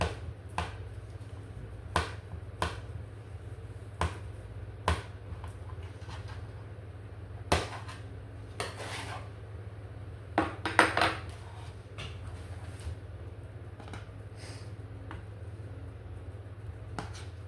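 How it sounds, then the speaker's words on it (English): A knife slices peeled bananas for a dessert lasagna, making quiet, crisp taps at uneven intervals. A steady low hum runs underneath, and a slightly louder cluster of cuts comes near the end. "Peel the banana. And slice them off this way."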